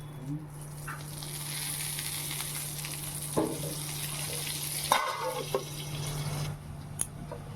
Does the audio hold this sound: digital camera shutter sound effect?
no